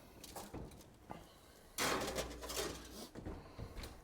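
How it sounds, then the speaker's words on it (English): Metal sheet pans holding spaghetti squash slide onto oven racks at 425 degrees, a few clanks and a scraping slide at close range, followed by a muffled rumble and thud as the oven closes. "But these are gonna go in the oven, 425."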